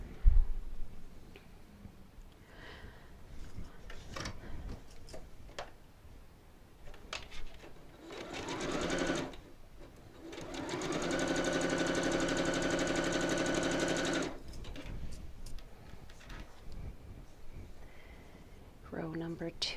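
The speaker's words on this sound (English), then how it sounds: "Now I'm going to sew this one onto here, this one onto here, and lastly this one onto here" A sewing machine stitching the rows of a nine patch quilt block, a steady mechanical whir of several seconds, with a person talking before and after it.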